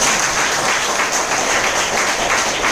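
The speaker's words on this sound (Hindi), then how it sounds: "इनके लिए जोरदार तालियां।" A crowd applauds loudly and steadily, a dense wash of clapping hands filling the room for a few seconds with no voices on top.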